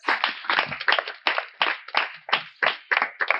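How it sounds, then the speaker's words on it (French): Applause for a king at a royal gathering, heard as a series of close, loud, separate bursts of hand clapping in an uneven rhythm with quiet gaps between them. "un tonnerre d'applaudissements pour notre grand roi"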